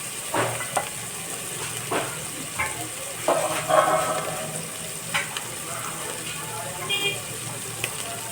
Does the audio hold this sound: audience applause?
no